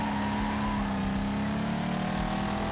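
A race car engine in a racing video game drones steadily at a high, sustained pitch, a continuous synthetic whine with no talking.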